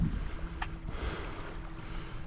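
A small boat's motor hums low and steady while crossing shallow grass flats, with wind and water noise around it, close and continuous, no talking.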